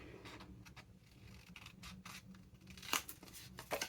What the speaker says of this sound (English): We're just going to come along and cut them off like so.